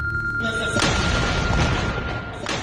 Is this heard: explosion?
yes